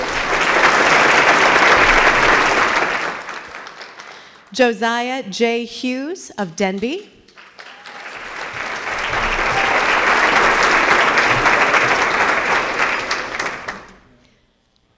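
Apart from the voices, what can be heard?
audience applause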